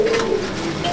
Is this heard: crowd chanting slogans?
no